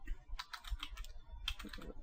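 A command is typed on a computer keyboard during wordlist generation. Quick bursts of close key clicks fall in two short clusters separated by a brief pause.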